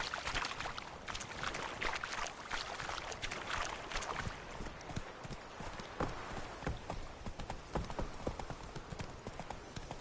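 Roach, Geralt's horse in The Witcher 3 game, trotting with steady rhythmic clip-clop hoofbeats close up, loud and continuous amid ambient game noise, with no speech.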